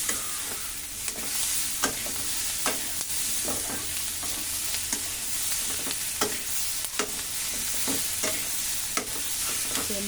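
A single tomato and sauce sautéing in a pan, continuous sizzle punctuated by regular scraping spatula strokes, close and fairly loud, with no voices.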